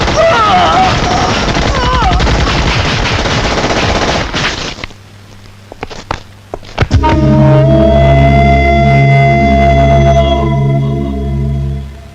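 Gunfire in a film scene rings out in loud, close bursts of rapid shots with booming hits, preceded by a dense stretch of music and noise and followed by a rhythmic, repeating pounding pattern.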